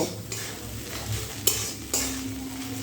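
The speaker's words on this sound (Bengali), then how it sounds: "এবারে ধনেপাতা আর গরম মশলার গুঁড়োটা এই ফুলকপির সঙ্গে ভালো করে মিশিয়ে দিয়ে আরও 2 থেকে 3 মিনিট আমি রান্না করে নেব।" Cauliflower filling with coriander and garam masala is stirred in a pan, giving a soft, quiet sizzle with gentle stirring and two distinct utensil knocks against the metal.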